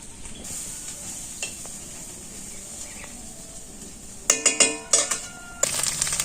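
Onion and chili frying in a pan in a village kitchen, a faint steady sizzle that breaks into a run of quick scraping clinks from a stirring utensil toward the end.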